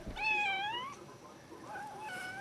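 A cat meows close by, and the first long meow has a falling, strained pitch. A second, quieter meow follows against a faint background hiss.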